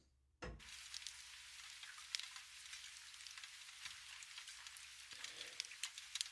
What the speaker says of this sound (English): Rain on Glass.